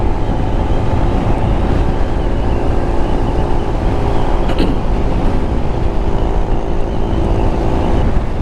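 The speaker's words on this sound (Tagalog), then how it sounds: "Sobrang lakas na ng hangin." Strong wind buffets the microphone on a Honda ADV 160 scooter ride along the Kaybiang Tunnel route on the Tagaytay–Cavite–Batangas loop, a loud continuous roar with steady engine rumble beneath.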